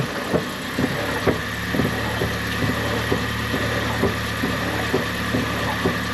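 A 2017 Toyota Avanza idles nearby in a steady, loud hum, with regular faint ticks and knocks recurring through the running engine during ABS motor repair work.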